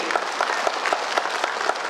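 An audience clapping at a gathering about the indigenous people of Tripura, a dense, steady round of applause with sharp individual claps standing out at an even rhythm, loud and close.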